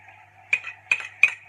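Three spaced scraping clinks of a spoon against a bowl while chicken breast salad with mayonnaise, black pepper and cheddar is stirred together, each stroke short and close over a faint low hum.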